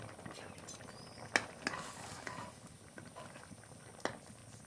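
Omelette curry simmers quietly in a pot, a faint low bubbling with a few soft pops and clicks spread across the stretch.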